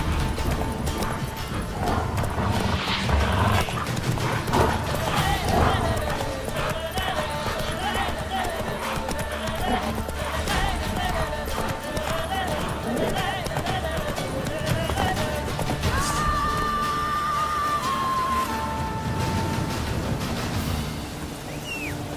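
The horse Roach gallops with rapid, rhythmic hoofbeats in The Witcher 3, loud and continuous under dense game ambience and other sounds for the full stretch.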